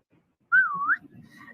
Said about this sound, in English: you got a whistle in there? Excellent.